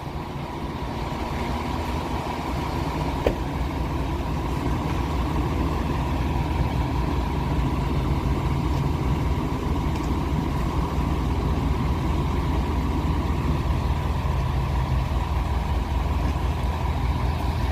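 A fire engine idles nearby at the scene of a car crash into a building in Fountain Valley, its engine giving a loud, steady diesel drone that holds unbroken throughout.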